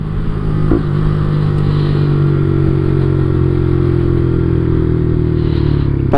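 A Yamaha R125 motorcycle engine drones loudly and steadily while riding, its pitch holding with slight throttle changes and wind rush, close to the rider.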